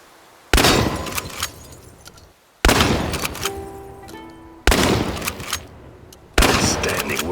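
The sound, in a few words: shotgun firing in the video game Chernobylite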